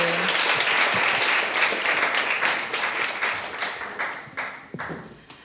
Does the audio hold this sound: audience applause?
yes